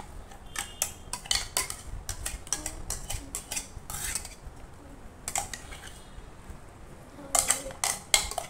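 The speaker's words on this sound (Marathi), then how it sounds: "मी आता हे टोपामध्ये काढून घेते" Raw mango juice being moved from a mixer jar into a metal pot, heard as a run of close metallic clinks, taps and scrapes in irregular bursts, with no talking.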